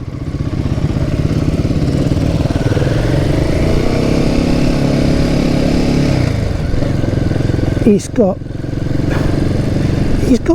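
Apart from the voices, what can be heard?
Royal Enfield motorcycle engine idling and revving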